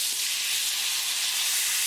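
Tomatoes dropped into a hot tadka for palak keema, giving a steady, bright sizzle and hiss in the pan that holds evenly at moderate loudness throughout.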